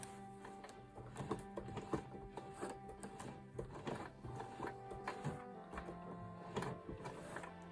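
A sewing machine turned slowly by its hand wheel, a quiet irregular series of mechanical clicks and ticks, close and faint, with no talking.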